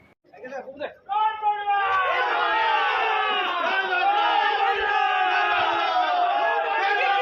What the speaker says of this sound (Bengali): সেই সময় তৃণমূল কংগ্রেসের সমর্থকেরা জয় বাংলা স্লোগান দিতে থাকে